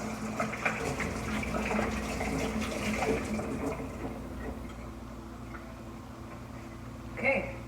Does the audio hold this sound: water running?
yes